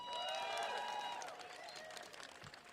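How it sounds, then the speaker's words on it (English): Audience applause at a rally rolls on steadily, fairly quiet, with cheers and whistles rising over the clapping early before easing off. "so give yourselves a big round of applause"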